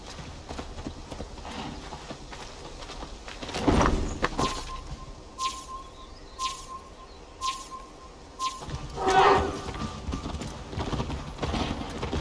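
Horse hooves in Assassin's Creed Valhalla, a steady clip-clop of galloping with occasional louder thumps and whinny-like sounds, moderately loud under a light ambient game backdrop.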